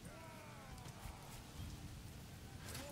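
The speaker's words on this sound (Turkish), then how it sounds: "Hiçbir şey gözükmüyor yağmurdan." Rain falling in the video game Manor Lords, a soft and constant hiss with faint rumbling underneath and distant game sounds, quiet and without talking.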